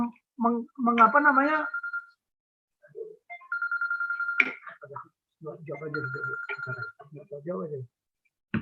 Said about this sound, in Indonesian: Tolong ditelepon dulu bunyi.